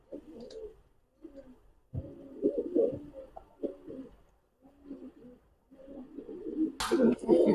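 A highflyer pigeon coos in a series of low, throaty bursts with short pauses, close and clear, ending in a sharper noisy rustle.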